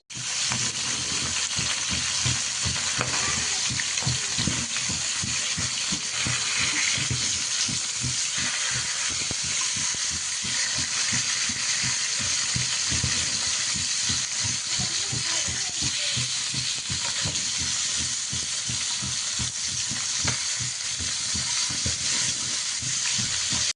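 Steady sizzling and hissing of food frying in hot oil, close and continuous throughout.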